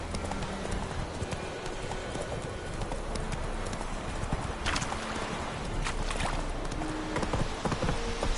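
Rhythmic clip-clop hoofbeats of a horse galloping in the video game Witcher 3, loud and close, with a brief whinny-like sound and a few sharp clicks along the way.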